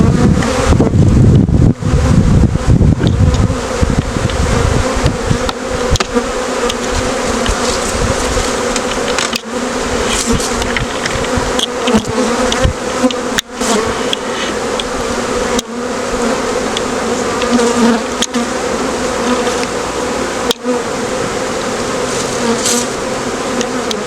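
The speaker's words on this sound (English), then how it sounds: "we're going to shake some more bees in." Honey bees buzz in a dense, loud, continuous drone as they are shaken into a hive during a spring split, with bursts of wind rumble on the microphone.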